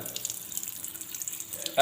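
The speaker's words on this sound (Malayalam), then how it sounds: "വെള്ളം വരുന്ന രീതി നമുക്ക് കാണുമ്പോൾ തന്നെ മനസ്സിലാവും നല്ല രീതിയിൽ സ്പ്രെഡ് ആയിട്ടാണ് വെള്ളം വരുന്നത്" Water runs from opened household taps, spraying out in a well-spread stream, a soft steady hiss heard alone and fairly close for under two seconds, growing louder at the very end.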